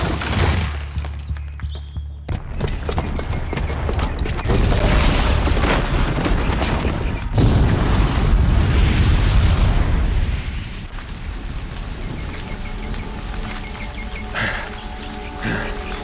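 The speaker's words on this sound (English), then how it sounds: "the booby trap on the bomb downstairs is gonna get set off" A booby-trapped bomb going off in the video game Horizon Zero Dawn: a loud, sustained roaring explosion with rumbling debris that tails off into softer crackling and scattered noise.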